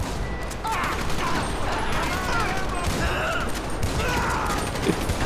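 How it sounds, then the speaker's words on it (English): Shotgun fire from the video game GTA 5 story mode comes as dense, rapid bursts of gunfire with mechanical clatter, and voices are faintly mixed in. "That's a long distance to shoot a shotgun."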